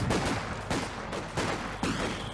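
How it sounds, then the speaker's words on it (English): Repeated heavy explosive bursts of mortar fire in the World War II strategy game Company of Heroes, about four booming impacts in quick succession, loud and close, with a dense rumbling tail between them and no talk. "With mortar fire all around him."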